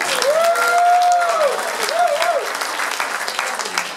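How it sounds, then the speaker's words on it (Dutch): An audience applauds at a Schlagerfestival performance. Loud, close clapping is overlaid by rising whoops and cheering voices, then tapers slightly toward the end. "Eerst een applaus."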